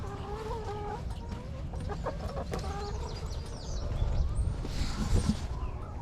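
Chickens cluck and call close by, several overlapping voices in a farmyard with a steady low rumble underneath and a rising bird chorus toward the end.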